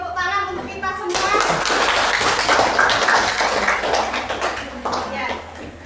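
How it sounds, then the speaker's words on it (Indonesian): A classroom of Indonesian schoolchildren applauds together, a dense burst of clapping that swells after a second and carries on for several seconds with children's voices mixed in. "Beri tepuk tangan untuk kita semua."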